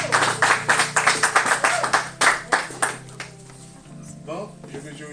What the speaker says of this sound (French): je comprends bien que vous m'avez acclamé